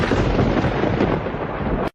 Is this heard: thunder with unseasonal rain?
yes